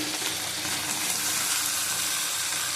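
Spiced rohu fish curry with potato and ridge gourd, seasoned with Kashmiri chili powder and turmeric, sautés in a pan, giving a steady, close hiss of frying that holds evenly throughout.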